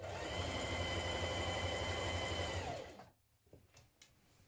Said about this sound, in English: stitch around your pocket, reinforce again here, and then continue down to the bottom